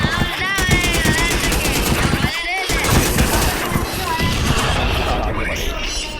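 Gunfire from a shooting video game: rapid, loud automatic bursts and single shots crackle almost without pause, while a voice speaks over the action throughout.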